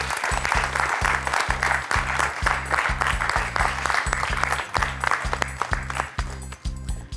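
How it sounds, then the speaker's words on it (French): A studio audience on a French quiz show applauds a contestant with dense, steady clapping over a rhythmic musical beat, continuing for several seconds before thinning slightly at the end. "On peut l'applaudir, Josette."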